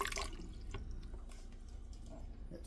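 Water dripping and trickling while a Primo water cooler is drained, a soft, faint patter of small drops with a louder splash at the start and scattered drips after.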